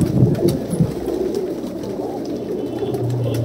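A flock of desi Punjabi Madrasi high-flyer pigeons in a shop gives off a continuous layered cooing, low and close, holding steady throughout with no voices.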